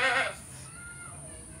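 A goat gives one short, loud bleat right at the start, then it fades into a quiet, steady background hum.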